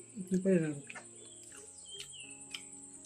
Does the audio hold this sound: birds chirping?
yes